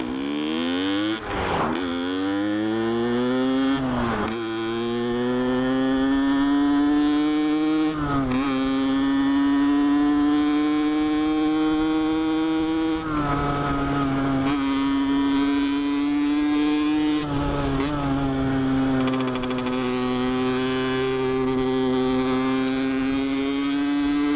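A 2021 Honda HM motorcycle with a derestricted CDI and untuned, unchanged carburetor jets revs hard with a buzzing, strongly tonal drone whose pitch climbs and holds in repeated surges, briefly dipping between throttle blips, close and loud throughout.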